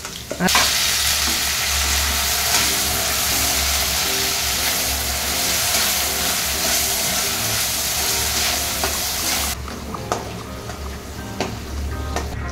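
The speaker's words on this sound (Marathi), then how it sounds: "आता तेलामध्ये मी मनुके आणि काजू देखील तळून घेते" Raisins and cashews frying in hot oil, a loud continuous close sizzle that drops abruptly near the end, leaving faint crackles and light clinks.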